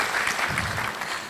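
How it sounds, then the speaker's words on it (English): A summit audience applauds panelists in a steady wash of dense clapping throughout, moderately loud and even, with no break. "A round of applause to all the panelists,"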